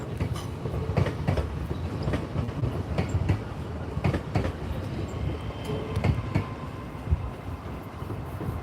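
A train rolls into Peterborough station, a continuous rumbling roll with rhythmic clickety-clack of wheels over rail joints, fairly close and steady.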